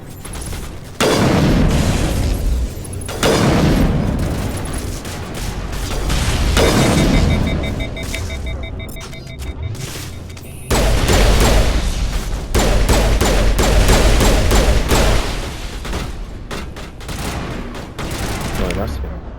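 Mass Effect combat: sustained heavy gunfire and booming blasts roll on in loud waves, close and dense, with a voice speaking over the fighting.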